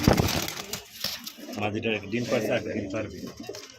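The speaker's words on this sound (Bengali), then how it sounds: "অরিজিনাল পাকিস্তানি ব্লাড লাইনের আপনার ড্যানিশ কবুতর, 3 পট্টি গিয়ার আছে" Danish pigeons of Pakistani bloodline, a male and a female, coo in low, throbbing rolls close by, mixed with light rustling and a voice talking over them.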